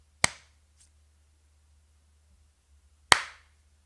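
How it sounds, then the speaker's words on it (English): Two sharp, isolated hand claps about three seconds apart, loud and close in a quiet room, each with a short decaying tail, made as an audio sync test. "So I'll give you a clap, and if you see the clap first and then hear it, let me know."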